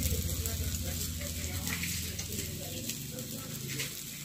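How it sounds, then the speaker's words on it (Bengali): Turmeric, chili and cumin powders, salt and cumin paste sauté in a pan in a Bengali home kitchen, with a soft, continuous sizzle and faint voices in the background. "তো জিরে বাটাটাও দেওয়া হয়ে গেছে, এবার এটাকে ভালো করে কষানো হবে।"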